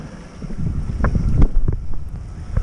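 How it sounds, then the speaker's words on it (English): Wind buffeting the microphone while foil paddleboarding downwind on the open sea, a steady low rumble with gusty surges and occasional splashes, loud and close with no talking. "Wind's getting a little lighter down here."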